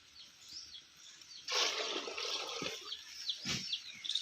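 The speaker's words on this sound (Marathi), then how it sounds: "बरं आपल्याला चार डबे पाणी टाकायचं आहे" Four measures of water poured into a pot for boiling rice papad dough: a steady, close splashing pour starting partway through, with brief drips and gurgles, no voices.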